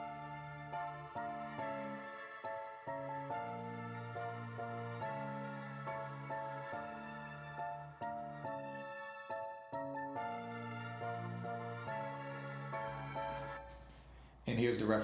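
A produced beat layers an Electra X lead with an Arturia Future Pluck patch over steady bass and drums, playing a repeating melodic loop at even volume until a noisy crash near the end.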